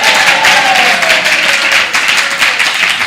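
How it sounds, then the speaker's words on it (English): An audience claps for a young boy at a Hare Krishna gathering, a loud dense burst of applause sustained across the moment, close and even with scattered individual claps. "Give this young boy a big round of applause."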